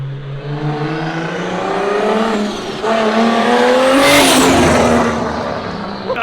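A JZ-swapped BMW roars loudly on its first start, the engine revving up and holding high with rising and falling tones, close and alone with no talk.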